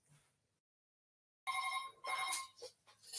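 A telephone ringing in a home office during an online meeting: an electronic ring with bright, tonal bursts, moderately loud and close, that starts after a quiet pause and repeats in pulses.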